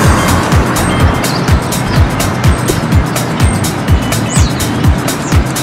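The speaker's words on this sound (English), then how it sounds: "And all these cars are driving by" Cars on a road pass close by in a loud, continuous traffic rumble, with repeated whooshing surges every half second or so and no one talking.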